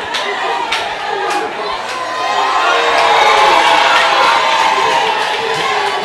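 Ceremony audience at an induction event gives another round of applause and cheering, a broad steady crowd roar that swells after the first couple of seconds and holds loud throughout, with scattered shouts.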